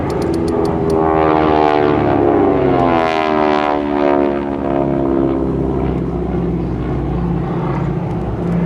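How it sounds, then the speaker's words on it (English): GEICO Skytypers propeller airplanes fly past at an air show, a loud sustained engine drone with rising and falling pitch as the aircraft sweep by, steady throughout. "as they depart the area, they'll keep their speed up, but change their heading and altitude to stay unpredictable"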